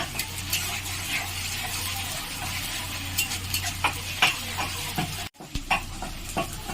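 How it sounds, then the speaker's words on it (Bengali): Ginger garlic paste frying with onions in a pan for street-fair style ghugni, a steady sizzle under repeated scraping and stirring strokes, with a brief drop to near silence before the stirring resumes. "আমি ভালো করে ভেজে নেব যাতে আদা রসুনের গন্ধটা না থাকে।"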